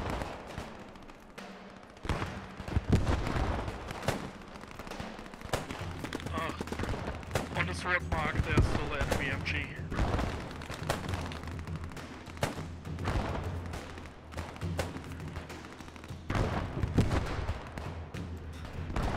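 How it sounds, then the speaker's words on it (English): A Thompson submachine gun fires in a WW2 video game, sharp rapid bursts and single cracks repeating throughout amid other battlefield gunfire, loud and near, with faint talk underneath. "That's the commander firing his Thompson."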